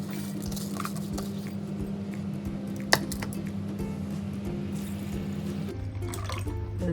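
Water poured onto washed sticky rice in a bowl for soaking, a steady soft wet trickle with light drips and a single small clink, holding at an even level and shifting tone near the end.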